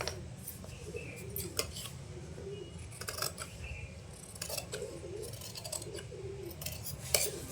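Scissors cutting fabric for a long frock, repeated crisp snips in short uneven bursts over a low background hum, close and fairly quiet.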